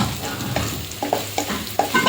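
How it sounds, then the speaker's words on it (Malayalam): Onions frying in a pan as the base for a tomato chutney, a close, bright sizzle broken by several sharp stirring scrapes. "നമ്മുടെ ഉള്ളിയൊക്കെ അങ്ങനെ പൊരിഞ്ഞിട്ടുണ്ട്"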